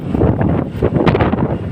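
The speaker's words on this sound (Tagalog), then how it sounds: "mahangin talaga dito sa taas" Strong wind roars and buffets the microphone on top of a bridge over a large estero, with gusty, uneven low rumble throughout and no voices.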